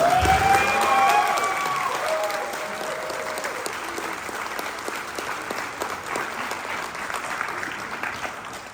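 Sustained applause from a large convention audience at a Hasbro Transformers toy panel at San Diego Comic-Con, a dense, even wash of clapping that holds steady with cheers near the start and tapers slightly toward the end.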